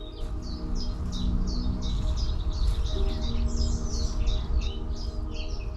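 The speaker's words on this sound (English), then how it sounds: "Oh, can you hear the bird noise this morning?" Several birds chirp and tweet in repeated bursts on a morning beside a canal, with a steady low outdoor rumble underneath and no talk.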